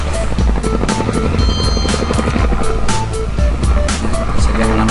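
Helicopter in Microsoft Flight Simulator X gives a loud, continuous rotor and turbine drone with a throbbing pulse, steady throughout, as people talk over it.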